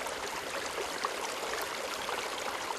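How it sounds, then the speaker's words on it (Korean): Steady, loud rush of water flowing from a wetland's final discharge outlet, a continuous broadband roar like a small stream without pause. "요란한 물소리가 마치 계곡이라도 온 듯하다."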